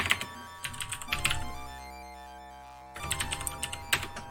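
Quick bursts of computer keyboard typing rattle up close during a Balance of Power computer strategy game session, broken by a pause and layered over sustained tonal game sounds.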